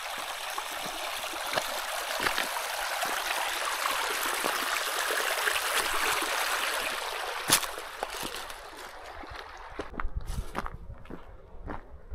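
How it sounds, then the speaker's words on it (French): River water flows and trickles along a hiking trail, a steady broad rush close by, with occasional footsteps and small knocks toward the end. "j'ai finalement trouvé un endroit où traverser la rivière"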